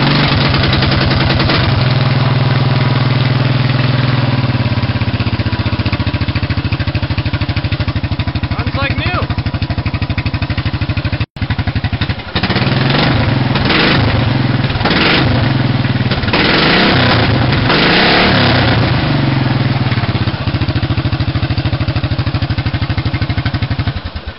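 A small petrol engine with a non-stock exhaust starts on choke and runs loud and steady close by, cuts out briefly near the middle, then roars back with uneven revving.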